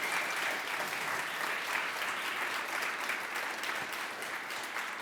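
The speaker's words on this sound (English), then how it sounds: "Everybody, please, round of applause for Emilie" Audience at the FITC creative conference applauds the presenter after her talk, with many hands clapping in a full, sustained wash that stays at an even level throughout.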